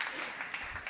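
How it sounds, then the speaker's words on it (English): A short burst of audience applause at a WePlayStrong event in Eindhoven, a soft, continuous patter of clapping that sounds somewhat distant and faint. "Let's give her a round of applause."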